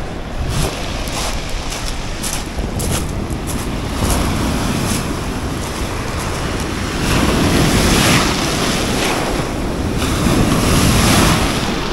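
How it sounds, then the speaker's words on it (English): Rough sea off Rhodes surges and breaks in repeated waves while strong wind buffets the microphone with a constant roar that swells louder toward the end. "The sea is still very rough. It's really windy."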